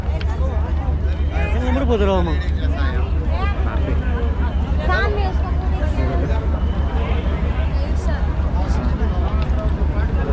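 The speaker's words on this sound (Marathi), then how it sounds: "पण भरपूर क्राऊड आहे इथं, हे बघू शकता" A large crowd at a train station on the new Beed to Ahilyanagar railway murmurs and chatters in a continuous babble over a steady, rhythmic low engine throb.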